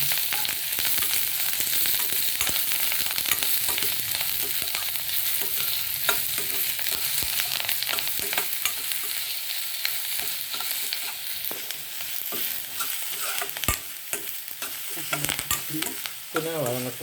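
Onion, garlic, ginger, curry leaves and bay leaf sautéing in a hot pan of oil, a constant crackling sizzle with occasional stirring scrapes, close up and uninterrupted by any voice.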